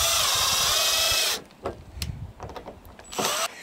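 A power drill drives temporary screws to level a nylon plate during a chicken plucker build, with a loud steady whine for over a second, then stopping, followed by clattering handling noises and a brief final burst.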